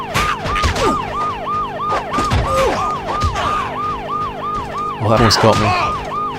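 Police siren chasing a motorbike in Road Rash 64, a steady looping wail alongside engine noise, with a brief spoken remark over it.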